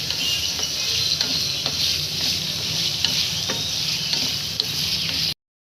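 Onions fry in a pan with a steady, bright sizzle and crackle, close and continuous, with occasional faint stirring taps, before cutting off abruptly.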